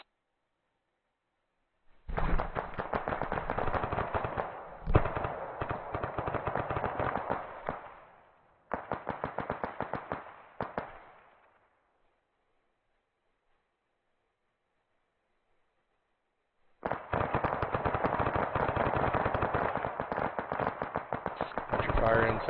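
Rapid gunfire during a platoon training exercise, long continuous bursts of fast shots broken by pauses and a silent stretch, loud and harsh throughout.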